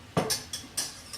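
A metal whisk clinks against a bowl and utensils as it is carried to the sink: several short, bright taps in an uneven rhythm, close by, with quiet kitchen noise between them and no talking.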